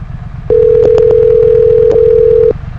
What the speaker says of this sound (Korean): 바라연 온빠님에게 전화 거는 중.